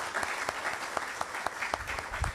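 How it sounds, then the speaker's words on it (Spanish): A conference audience applauds a historian, a steady patter of many hands clapping close and continuous for a couple of seconds. "yo quisiera solicitar primero un gran aplauso para un historiador"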